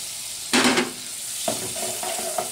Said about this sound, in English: Melt your butter.